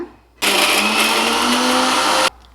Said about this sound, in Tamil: இதை அரைச்சி எடுத்துக்கிடலாம்.